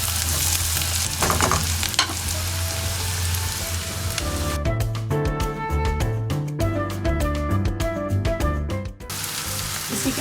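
Ridge gourd frying with turmeric in a pan makes a steady crackling sizzle, and a spoon stirs it in a dense burst of rapid scrapes and taps midway, close and unaccompanied by speech.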